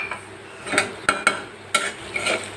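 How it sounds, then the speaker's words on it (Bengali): Onion stir-fried with salt, turmeric and chilli powder for a dried-fish bhuna: a spoon scrapes and clinks against the pan in several distinct strokes over a soft, steady sizzle, close by with no talking. "এবার ভালো মতো কষিয়ে নেব মশলাটা"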